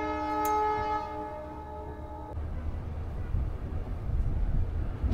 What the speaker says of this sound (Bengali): জাস্ট আমাদের ট্রেনটা ছাড়ছে আস্তে আস্তে